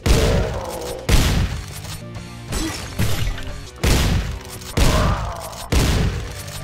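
Loud, booming rifle shots from the video game White Hell ring out alone in an evenly spaced series of about seven blasts, each with a crashing decay.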